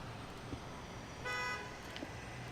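A single car horn toots briefly in a parking lot, a faint, distant honk of about a quarter second over a low background of traffic noise.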